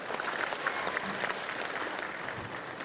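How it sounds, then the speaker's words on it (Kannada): Soft, distant applause from a gathered audience at a dairy farmers' technical seminar in Bengaluru, spreading evenly as a continuous patter during a felicitation ceremony. "ಸನ್ಮಾನದ ಮುಖಾಂತರ ಬರಲಿ ತಮ್ಮೆಲ್ಲರ ಜೋರು ಚಪ್ಪಾಳೆ"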